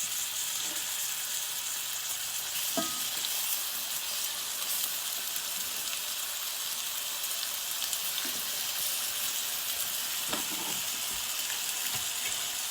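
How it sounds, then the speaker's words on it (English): Chicken pieces sizzling in a hot pan for sweet and spicy chicken and rice, a steady bright frying hiss that runs evenly throughout with a few faint clinks. "You can hear it sizzling."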